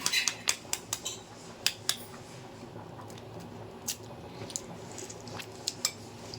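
A spoon mixing raw egg into masala-coated chicken for chicken fried rice, with a quick series of close, sharp clinks and taps against a bowl over soft squishy stirring, no talking.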